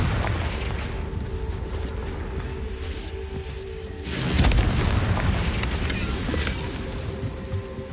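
A Confringo fire spell bursts in the Hogwarts Legacy video game: a deep, rumbling boom swells over a steady game ambience partway through and then slowly fades, with no voices.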